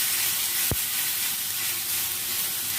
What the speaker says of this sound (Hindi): ऑयल गर्म हो चुका है। ऑयल में हम कद्दूकश किए हुए आलू ऐड कर देते हैं।